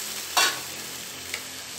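A brief hiss and splash as water hits a hot pan of rice with sausage, followed by a quieter second sizzle against a low background.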